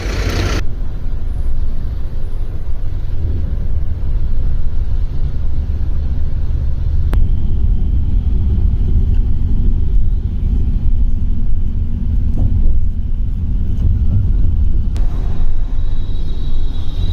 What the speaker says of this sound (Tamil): வால்வோட அந்த இன்ஜின் சவுண்டு கேட்குறதுக்கு அவ்வளோ ஒரு சூப்பராக இருக்குது